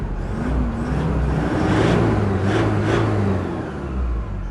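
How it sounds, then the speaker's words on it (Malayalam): Steady, loud engine drone from a 4x4 vehicle with an unmodified stock exhaust, revving with a low humming tone that swells and eases slightly over several seconds, with no talking. "അത്യാവശ്യം എഞ്ചിൻ സൗണ്ട് ഉണ്ട്"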